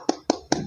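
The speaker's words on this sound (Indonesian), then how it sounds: "kita beri tepuk tangan meriah dulu" Three sharp, close hand claps spaced evenly, each with a short ring-off, at an appreciation award ceremony.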